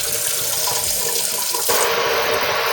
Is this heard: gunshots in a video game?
no